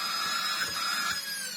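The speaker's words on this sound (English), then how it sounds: "I'm going to wait for the non-digital motor to wind up." A non-digital motor on a Dyson DA001 upright vacuum cleaner spins up, giving a steady high-pitched whine with a couple of brief dips in pitch, loud and close.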